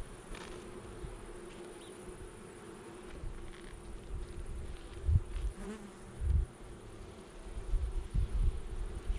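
Honeybees drone in a steady, close buzz around a hive during honey harvest, with soft thumps and bumps rising toward the end.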